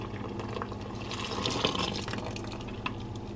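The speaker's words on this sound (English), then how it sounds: "So now we're going to add the wet ingredients" Wet ingredients for vegan seitan are poured into a bowl of dry ingredients, a soft, steady trickle and splash with small drips, close and quiet.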